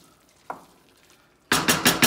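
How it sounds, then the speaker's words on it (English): A spoon stirring Cajun chicken and andouille sausage jambalaya with rice in a pot, a single soft knock followed by several quick scraping sweeps close by, with no talking. "Lift the lid, give it one final stir."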